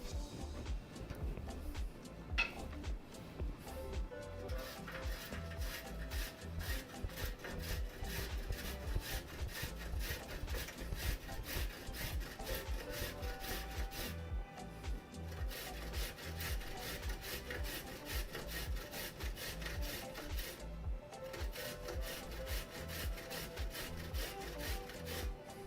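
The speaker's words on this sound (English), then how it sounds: "I am being a bit more careful with this box grater than I was with my older ones" A box grater works steadily through food for a side salad, giving a long continuous rasping scrape with even back-and-forth strokes and a few brief pauses, close and fairly loud.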